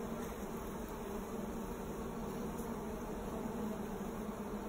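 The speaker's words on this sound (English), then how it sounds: "Look at all the bees." Honeybees buzzing around a packed summer beehive in a park, a faint, steady, continuous hum of many insects with no breaks or speech.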